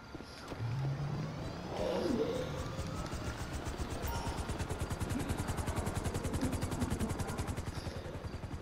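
Helicopter in a GTA video game, its rotor beating in a steady rapid chop that builds and holds for several seconds alongside game noise and a low rumble.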